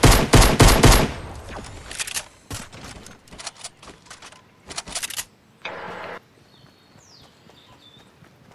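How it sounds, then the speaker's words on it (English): Weapon fire in Fortnite: a loud, rapid burst of automatic gunshots opens, followed by scattered single shots and short volleys at varying distances, then a brief mechanical whir and a faint chirping tone. "I heard a weapon."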